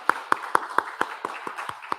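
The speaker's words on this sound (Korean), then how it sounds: "환영의 박수하겠습니다." A small church congregation gives welcoming applause at an Easter Sunday morning service, heard as a sparse, regular series of about nine distinct claps in a slow rhythm, fairly close.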